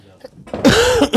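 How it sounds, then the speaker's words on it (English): A single close, rough cough with some throat clearing comes from a rabbi during a spoken Torah lesson, short and abrupt among speech. "I am coughing sometimes, but it's nothing."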